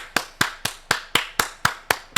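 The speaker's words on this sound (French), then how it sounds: "On peut s'applaudir, messieurs." Slow, evenly spaced claps, about nine sharp hand strikes roughly a quarter second apart, close and distinct with quiet between them, no talking.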